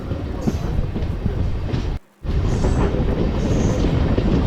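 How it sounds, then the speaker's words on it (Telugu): A MEMU passenger train on the Renigunta–Nellore line runs fast with a steady, loud roar and rhythmic wheel clatter. A brief sudden drop cuts the noise for a moment before it resumes at full strength. "ఇది ట్రైను పాసింజర్ అయినా మెమో ట్రైన్ అయినా స్పీడ్ మాత్రం హండ్రెడ్ తగ్గట్లేదు ఫ్రెండ్ చాలా స్పీడ్గా వెళ్తున్నాడు"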